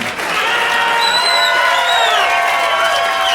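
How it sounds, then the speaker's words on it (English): Loud audience applause mixed with cheering and whoops at a stand-up comedy show, a thick, sustained roar of clapping with shouted voices rising above it. "Get some applause on that CD"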